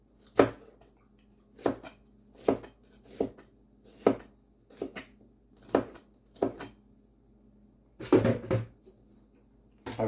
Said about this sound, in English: I cut the bottom of my pepper just to give it a flat bottom so it's easier to sit as I make my cuts